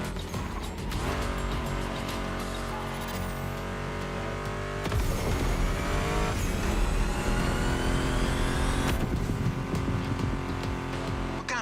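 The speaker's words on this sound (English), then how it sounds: "Meshes well with the sound of the engines" A Mustang GT muscle car engine in a racing video game revs and roars loudly, rising and falling with a squeal of tires, over driving music.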